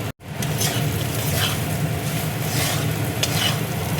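Potato and eggplant frying with spices, including Kashmiri chili powder, in a pan: a loud, continuous sizzle with stirring scrapes after a brief silent start, no speech.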